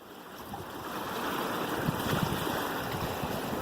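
An ocean wave surges and splashes against rocks at St. Pete beach, a broad rushing wash that builds and holds steady, with no voices.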